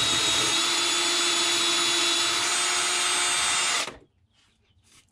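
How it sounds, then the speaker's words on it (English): A power drill bores out holes in boat fiberglass aboard a Hallberg Rassy 54 sailboat, whining loud and steady at close range for about four seconds before cutting off abruptly into near silence. "drill out the holes."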